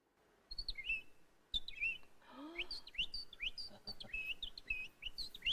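A parodist's voice imitates sparrows and pigeons in a close, lively string of rapid chirps, tweets and short whistled calls, with a brief lower cooing phrase near the middle.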